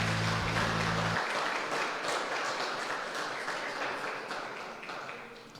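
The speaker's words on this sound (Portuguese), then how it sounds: "Aplauda ao Senhor com muita alegria no teu coração." Church congregation applauding during a worship service, a steady dense wash of clapping that fills the space after a brief tonal opening, gradually easing off toward the end.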